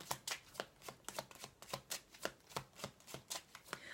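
A deck of Lenormand cards is shuffled in quick, regular riffled bursts, about four per second, soft and close with no talking.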